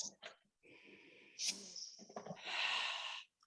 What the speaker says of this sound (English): just take a few really long, slow, deep breaths